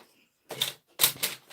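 A paper trimmer slicing card for a double gatefold card, two quick crisp cutting strokes close by, each one a short scraping slide, with quiet gaps between them.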